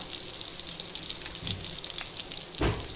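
Cumin seeds tipped into hot oil for a spicy green-masala potato curry, giving a steady crackling sizzle that swells into a sharper burst near the end, with no voices.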